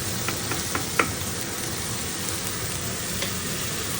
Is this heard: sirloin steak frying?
yes